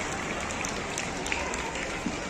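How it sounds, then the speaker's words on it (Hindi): Audience applause for two girls on stage at a school science fair and teachers' award function, a dense steady patter of clapping throughout, with no clear speech over it. "और आदरणीय दीदी डबल तालियां उनके लिए बनती हैं।"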